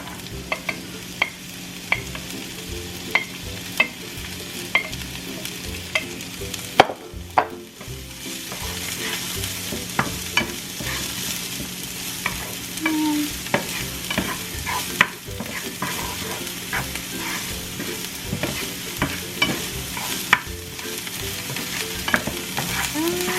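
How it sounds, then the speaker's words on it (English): Garlic and onions frying in a pan while a utensil stirs them, with a constant sizzle broken by regular scraping knocks against the pan, near and steady throughout, with no voices. "the garlic is starting to brown, so now you want to add your onions"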